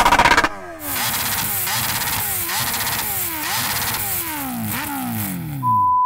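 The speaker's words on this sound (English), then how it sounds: "Can you rev up your bike?" Kawasaki H2R and Ducati Panigale SP2 superbike engines revving hard at a drag race, loud and close, with repeated rising and falling throttle blips in a steady rhythm and no talking.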